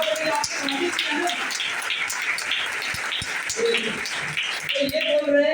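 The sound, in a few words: audience applause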